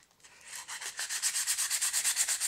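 Coarse sandpaper scrubs varnish off the wooden handle of an Opinel knife, a quick run of about fifteen evenly rhythmic rasping strokes, close and loud with no talk.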